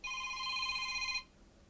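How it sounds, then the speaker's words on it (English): A telephone gives one bright electronic ring of about a second, clear and fairly close, then cuts off abruptly to quiet room noise. "Phone call."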